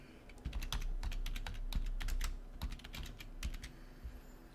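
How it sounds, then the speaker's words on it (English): Typing on a computer keyboard, with close, quick bursts of clicky keystrokes in an uneven rhythm over a low background hum, no speech. "Let's just type that in."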